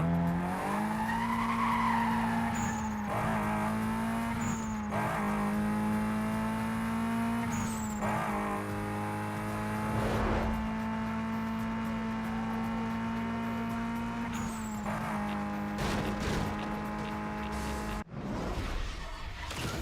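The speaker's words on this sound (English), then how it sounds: "my car still sounds like a rice machine" Loud, sustained car engine whine in Need for Speed: Most Wanted (2005), climbing and shifting through gears, with tire squeals and skids cutting in, close and continuous.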